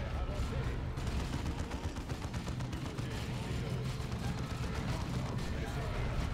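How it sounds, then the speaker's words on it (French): Dense, continuous gunfire with bursts and explosive grenade blasts from the Dawn of War 2 battlefield, a relentless loud clatter that never lets up across the whole stretch. "il me jette des grenades aussi"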